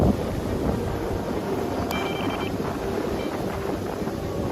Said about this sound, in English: the wind began to blow almost suddenly